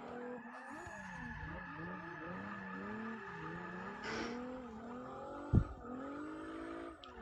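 A Ferrari race car engine in a racing video game, tone climbing and dropping through gear changes, with tire squeal and a brief sharp knock partway through.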